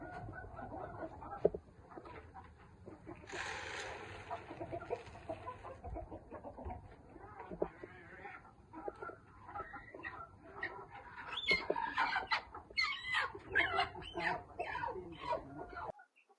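Backyard chickens cluck and squawk in a steady, moderately quiet chorus, with busier bursts of calls near the end.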